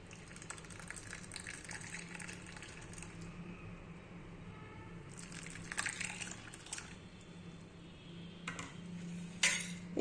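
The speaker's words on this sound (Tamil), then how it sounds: "இப்போ இந்த தர்பூசணி பாதாம் பிசின் உள்ளதை நம்ம இதில் ஊற்றிக்கலாம்." Watermelon and almond gum mixture is poured into ice pop molds, giving quiet liquid gushes and drips with light clinks of utensils and containers in a close, otherwise quiet kitchen.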